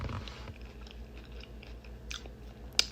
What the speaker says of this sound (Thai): มาเด้อมากินทุเรียนอ่างมื้อนี้เด้อ แซ่บ